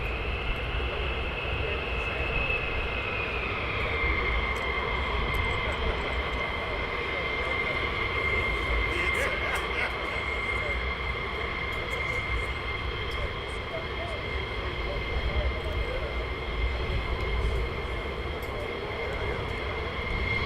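Military fighter jets taxiing at RAF Lakenheath give a continuous distant engine roar with a steady high whine that holds level and shifts slightly in pitch, with no talk.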